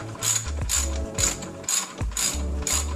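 A ratchet backs a bolt out on a Jeep Wrangler JK during rear main seal work, giving rapid, close clicking in five quick bursts separated by short pauses, with no talking.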